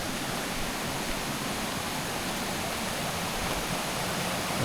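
A river runs below a roadside parking spot near Koyna dam during the monsoon, heard as a constant broad rushing roar of water, steady and fairly loud throughout, with no talk.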